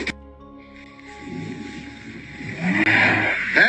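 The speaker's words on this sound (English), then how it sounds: "The car peels off." A car peels off and revs away, its engine building from a low rumble into a loud, rising roar with a sharp burst near the end, heard close by without talking.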